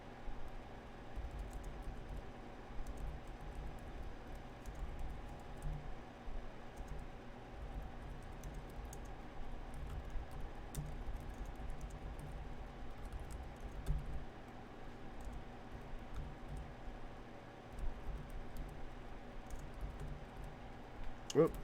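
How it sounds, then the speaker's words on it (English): Soft, irregular keyboard clicks patter at low level over a steady background hum, with occasional louder taps. "I'm just typing in something here."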